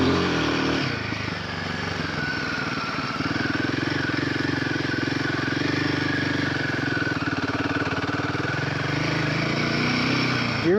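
A 2025 Royal Enfield Himalayan 450 motorcycle ridden slowly in first gear over soft ground, its single-cylinder engine holding a steady, close, continuous thrum with slight swells in throttle throughout.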